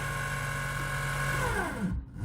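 An Emco Unimat SL-200 lathe spindle driven by a servo motor runs at top speed, about 2,694 RPM, with a steady loud whine and harmonics, then winds down in a falling sweep to near stop before briefly restarting.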